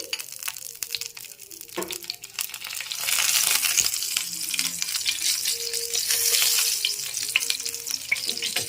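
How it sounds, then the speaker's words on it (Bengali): Black cumin seeds and dried red chillies crackling in hot oil in a kadai, a sizzle that swells and stays loud, with scattered pops and a few stirring clinks, heard close without speech. "এবার তেলের মধ্যে কালো জিরে আর শুকনো লঙ্কা ফোড়ন দিয়ে দিচ্ছি"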